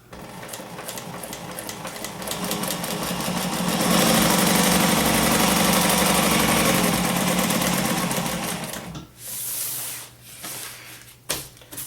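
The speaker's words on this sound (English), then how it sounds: "going to sew on the very outside edge of this stove jack right here" A sewing machine stitching a stove jack onto fabric runs in a loud, fast steady whir for several seconds, then slows and stops, followed by short bursts and handling noises.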